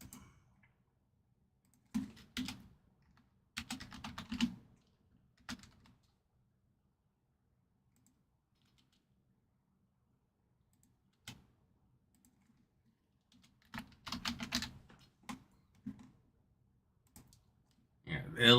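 Computer mouse clicking and keyboard typing during a live sports card box-break stream, in short intermittent bursts of clatter separated by long quiet gaps, close and moderately loud.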